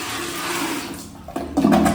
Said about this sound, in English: this is just how flushing works anyway. You pour the water in